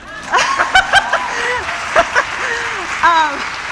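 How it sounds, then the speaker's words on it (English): Audience at a startup pitch event breaking into scattered laughter and chuckles with some clapping, lively voices rising over a steady crowd murmur, nearby and moderately loud. "you can clap at that, it's awesome"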